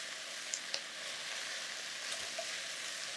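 Carrots in melted butter sizzling softly in a pan, a faint, even hiss with a couple of small clicks from stirring, close and without speech.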